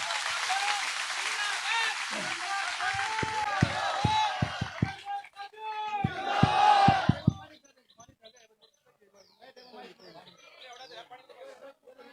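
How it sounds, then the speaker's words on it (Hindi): A political rally crowd in Bajana Kalan, Ganaur, breaks into bursts of strong clapping while a speaker's voice carries over it through a PA, then the applause fades into quieter chatter. "एक बार जोरदार ताली बजा दो भाई सभी"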